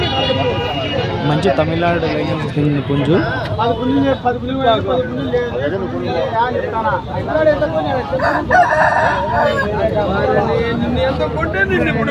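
A Kakinada rooster crows amid a busy, noisy livestock market scene in Rayachoti, Kadapa district, with people talking over it throughout.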